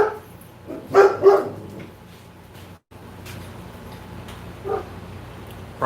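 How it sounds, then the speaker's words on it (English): A dog barks outside on a quiet, sheltered street, a short burst of a few barks followed by another bark a few seconds later, fairly close and alone. "Probably someone is walking their dog."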